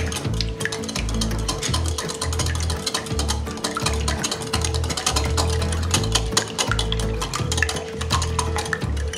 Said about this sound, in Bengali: আমি ডিমটা ভালো করে ফেটিয়ে নেব